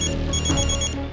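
Telephone ringtone ringing in a domestic sitcom scene, a steady repeating electronic ring that fills the short clip with no talking over it.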